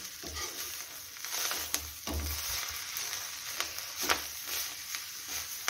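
Fresh green chickpea leaves tossed with coarsely crushed peanuts in a pan give a soft sizzle under repeated scraping and stirring strokes from a spoon, close and moderately quiet, with no talk.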